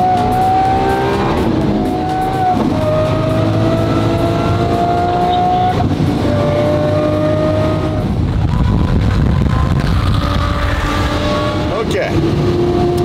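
A sports car on the Gumball 3000 rally from Toronto to Miami is driven hard. The loud engine revs through repeated rising pitch sweeps as it shifts up through the gears, with brief drops between pulls.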